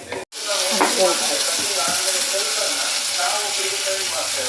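Onion and tomato frying in coconut oil in a pan, a loud steady sizzle with occasional stirring scrapes, starting after a brief pause and hissing continuously throughout.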